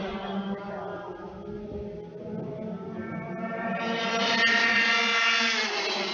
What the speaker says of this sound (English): And 3 karts riding nose to tail, 3rd, 4th, and 5th.